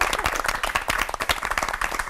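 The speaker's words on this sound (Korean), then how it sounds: "세 분 목사님께 뜨거운 박수 부탁드리겠습니다" Warm audience applause for three pastors, a brief burst of dense, lively clapping from a crowd filling the whole moment.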